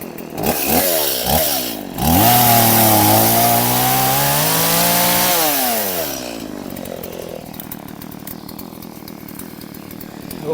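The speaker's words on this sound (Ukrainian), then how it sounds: "пилка вже прогрілася, можна працювати" A warmed-up chainsaw runs loud and close while clearing overgrown brush at a rural village house, revving up to a steady high whine, holding, then dropping back to a lower idle drone.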